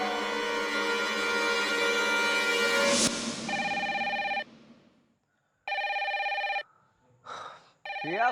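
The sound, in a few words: telephone ringing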